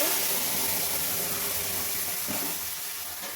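Ivy gourd paste sizzling and frying in a hot wok, a steady, dense hiss of oil that carries on without a break, close and fairly loud.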